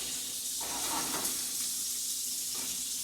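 Stuffed flank steak pinwheels filled with prosciutto, cilantro, garlic and cheese sizzle steadily in a pan over medium-high heat, a continuous close hiss with slight stirring shifts and no talking.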